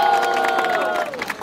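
A rap battle crowd roars and cheers for Altão, a dense sustained wall of shouting voices with a single long yell riding on top before it fades slightly.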